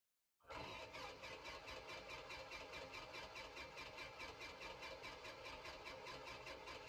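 A flooded Super Cub engine in X-Plane 11 cranks steadily after a brief silence, its starter churning in an even, rapid rhythm that stays loud and close for several seconds without catching, with no voices.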